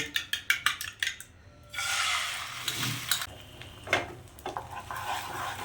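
Eggs being scrambled in a pan with black pepper for potato-egg kachori: quick metallic whisking taps at first, then soft sizzling broken by spoon scrapes and clinks against the pan, quiet and close.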